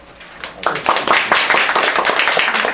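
A lecture audience bursts into applause for the speaker of a talk on the environment and youth education. The clapping swells quickly from quiet to a loud, dense patter and stays strong.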